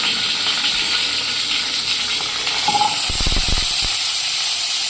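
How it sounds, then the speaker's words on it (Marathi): Drumsticks, curry leaves and garlic sizzling in hot oil, a loud continuous hiss and crackle up close that swells briefly near the end with a few sharp spits and pops. "त्यामध्ये टाकले तेल, कढीपत्ता, लसूण, शेंग टाकले"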